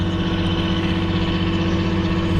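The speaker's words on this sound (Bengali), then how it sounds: "এই যে লঞ্চ যাচ্ছে ধীরে ধীরে" A passenger launch moves slowly along the river near the Daulatdia–Paturia ferry crossing, its engine a steady low, rumbling drone that stays close and even throughout.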